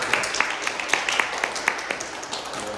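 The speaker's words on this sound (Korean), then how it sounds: "박수로 환영합니다" Steady applause from a church congregation at a Sunday service, with crisp individual claps scattered through a continuous patter of hands.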